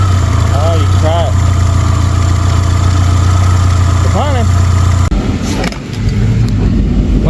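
Car engine fitted with a Holley Sniper EFI idles steadily with a deep, even rumble, its tone shifting and dipping briefly near the end while people talk over it.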